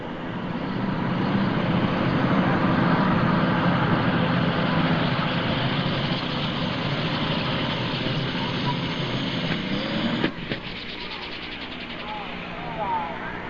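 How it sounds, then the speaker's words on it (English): An alcohol-burning, three-charger John Deere pulling tractor competes at an NTPA pull in Urbana, Ohio, its engine roaring loud and sustained and easing off near the end, with an announcer talking over it. "Alcohol burning 3-charger setup for the Color Money John Deere of Wayne and Mary Kennedy."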